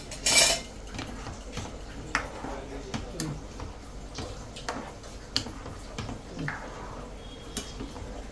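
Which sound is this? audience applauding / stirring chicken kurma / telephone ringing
stirring chicken kurma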